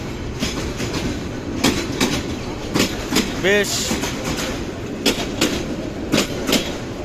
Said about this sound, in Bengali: বিদায় নিচ্ছে শ্রীপুর থেকে